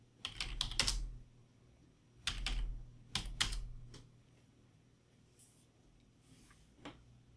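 Bursts of clicking keystrokes on a computer keyboard while entering commands at a command prompt, coming in quick irregular clusters separated by pauses, close and fairly quiet with no talking.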